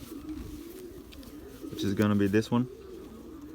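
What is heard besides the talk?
Belgian racing pigeon cooing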